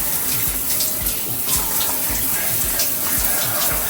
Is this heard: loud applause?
no